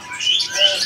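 Caged birds at a market kiosk let out a quick pair of high, bright chirps, close and clear, in under a second.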